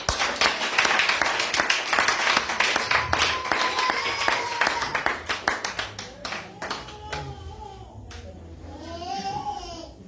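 A church congregation applauds for Jesus during a prophetess's teaching service, dense clapping filling the first several seconds before thinning into scattered claps, with voices calling out beneath it.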